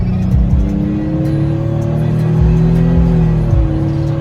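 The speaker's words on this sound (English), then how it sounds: "I'll give you guys little snippets of flooring it down the road" A V6 car engine drones loudly from inside the vehicle, its pitch climbing as it accelerates, with a brief dip like a gear change near the end.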